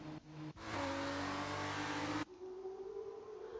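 Race car engines roar off the starting line in an F2 racing video game, a loud blended revving that swells, holds for about two seconds, then drops to a single steadier engine whose pitch climbs.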